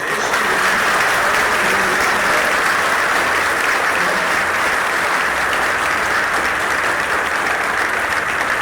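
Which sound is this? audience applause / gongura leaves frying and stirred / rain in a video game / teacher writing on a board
audience applause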